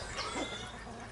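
Chickens at a backyard coop, heard as soft, close clucking and murmuring over a steady low hum, with no talking.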